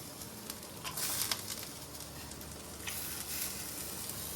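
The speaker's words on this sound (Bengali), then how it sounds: "চালটা ভালো করে ভেজে এর মধ্যে কাজু কিশমিশ দিয়ে দেবো।" Rice frying in a pan with cashews and raisins, a soft, fairly quiet sizzle with light pattering crackles throughout.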